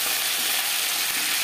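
Aar fish fries in hot oil with a loud, steady, dense sizzle and crackle, close by with no voices.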